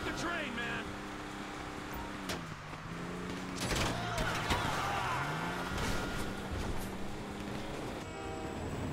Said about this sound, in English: Beat the train, man!